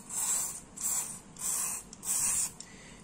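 Cleaner spray hisses onto rusty scooter CVT parts in four short, close bursts with brief pauses between them, each about half a second long.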